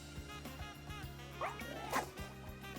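Fidough, a dog-like Pokémon in Pokémon Legends: Z-A, lets out two short, cute yipping barks over a looping game music bed.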